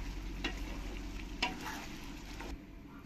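A ridge gourd, potato and lentil dumpling curry is stirred in a pan, with a steady low sizzle under a few scraping strokes, close and fairly faint.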